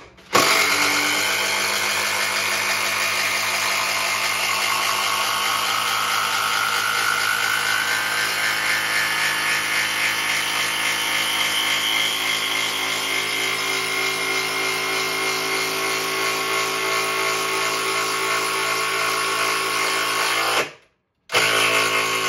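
Continuous loud whirring hammer of a Dewalt 12V Xtreme impact driver driving a gutter screw, a steady mechanical rattle for about twenty seconds that stops abruptly near the end.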